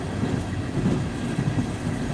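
A coal train slowing down rolls past with a steady low rumble and faint rhythmic wheel clatter, the sound even and continuous with no voices.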